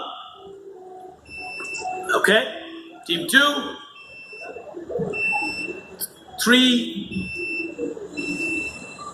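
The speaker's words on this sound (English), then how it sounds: "We'll quickly start by testing your buzzers." Several electronic quiz buzzer tones sound one after another, each a short bright beep, between bursts of someone speaking, as team buzzers are tested at a rural IT quiz.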